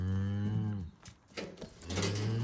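A cow moos near her young calf in a long, loud, low call that fades, then after a short, quieter gap of scuffling a second drawn-out moo rises close by.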